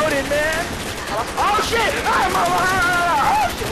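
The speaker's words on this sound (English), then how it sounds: "I'm spamming the shit out of this ray gun" Rapid ray gun fire in Call of Duty Zombies on Nacht Der Untoten, a dense stream of warbling energy blasts under excited overlapping voices.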